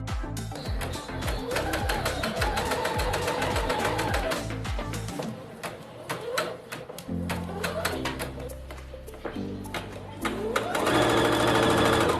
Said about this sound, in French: Je vais maintenant coudre le long des emmanchures et de l'encolure en m'arrêtant à chaque fois à environ 3 cm de la couture d'épaule